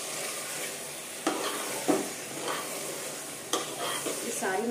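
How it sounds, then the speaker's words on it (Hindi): Mutton with spices sizzling and frying in a pan while being stirred, a steady loud hiss broken by a few sharp scrapes and knocks of the spoon against the pan, close by. "अच्छे से भूनना है बहुत देर तक का"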